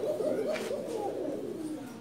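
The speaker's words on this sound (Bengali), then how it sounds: "পাঙ্কি লাইনের কবুতর।" Close, low cooing from a Panki line pigeon at a Dhaka pigeon market, a run of soft rolling notes that gradually fades and thins over the couple of seconds.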